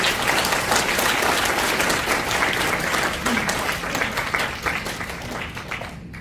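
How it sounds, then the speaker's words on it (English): A seminar audience gives a presenter a round of applause: a full, sustained crowd of clapping that holds steady and then thins out toward the end. "Can we give another round of applause?"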